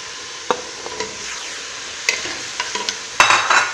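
Turnips and carrots fry in a pot for Algerian chakhchoukha, a moderate sizzle broken by several sharp scrapes and clanks of a stirring spoon, the last one louder and more vigorous.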